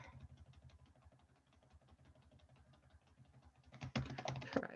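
Quiet, rapid keystrokes on a computer keyboard tap along close by, becoming busier and louder toward the end.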